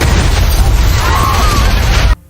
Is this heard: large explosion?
yes